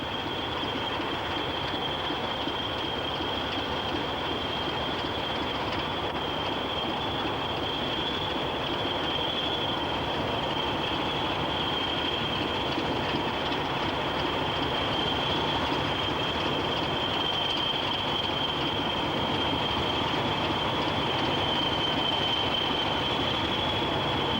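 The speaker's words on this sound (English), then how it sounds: "Class 40 number 212 is seen arriving at the station from the north platform" A Class 40 diesel locomotive arriving at a heritage railway station, with a steady rolling rumble of train and a sustained high wheel squeal throughout.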